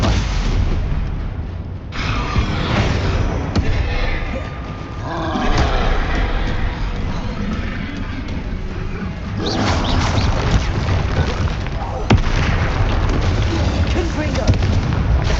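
Spell blasts and explosions from Hogwarts Legacy, heard as continuous loud booming and crackling magical bursts with sharp impacts over a dense rumbling roar, spoken incantations mixed in.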